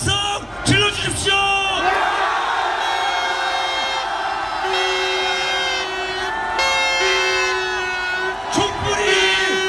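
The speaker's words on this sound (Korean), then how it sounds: "환호의 함성 질러주십시오" A large street protest crowd near Anguk Station roars with cheers and shouts, a dense sustained wall of yelling voices with whoops rising and falling over several seconds, close and loud.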